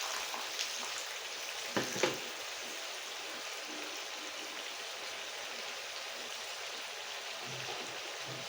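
Coconut oil frying in a pan gives a steady, fairly quiet crackling sizzle with a couple of brief pops near the start, continuing evenly throughout with no talking.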